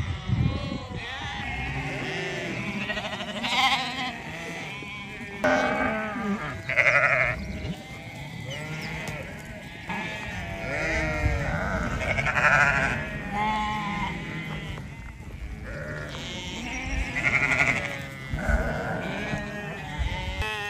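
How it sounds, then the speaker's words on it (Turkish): Sheep in a flock on a rainy mountainside bleat again and again, many overlapping calls near and far, with restless movement noises filling the gaps. "Yağmurda böyleler koyunlar işte."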